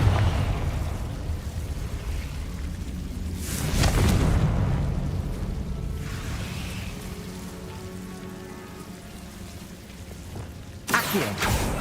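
A Confringo blasting curse erupts in the Hogwarts Legacy video game as two booming bursts, one midway and a sharper one near the end, over a low rumbling game backdrop.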